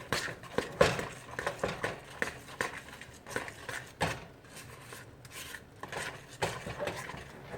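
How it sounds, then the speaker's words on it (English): Flour is scraped from the edges of a bowl while batter is mixed, producing a steady run of soft rubbing and scraping strokes with light clicks, close and fairly faint, with no talk. "make sure you scrape the edges to get all that flour in there"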